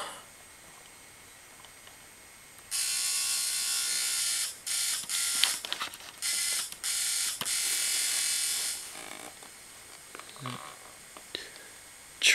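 Homemade Dalek ring modulator voice effect, an orange-LED DIY box, giving a buzzing metallic processed tone in bursts of several seconds with short gaps, fairly loud and close, then fading to faint hiss.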